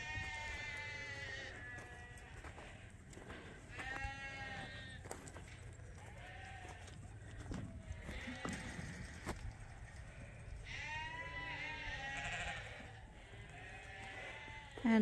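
Ewes bleat out in a field during evening gathering on a sheep farm, repeated calls from several animals at moderate distance, some faint and some closer, over a low background rumble, with no talking.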